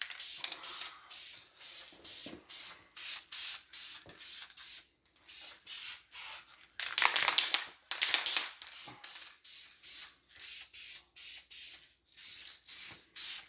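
Short, crisp hissing bursts of spray paint go onto a 1968 Pontiac GTO 400 intake water neck for its final coat, fired close up in a quick repeating rhythm with brief gaps and one longer pass partway through.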